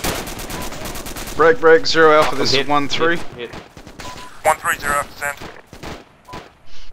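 Heavy machine gun fire in the ArmA II military game crackles in bursts behind radio chatter, with sharp distant reports cutting through while a voice speaks over the net.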